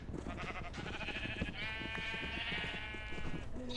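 Sheep bleat in a Minecraft-style video game farm, several wavering baa calls overlapping in a dense, continuous chorus, close and clear, with no talking.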